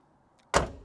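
A Mk2 Escort van door slams shut once, a single loud close thump after near silence, with a short rattling decay.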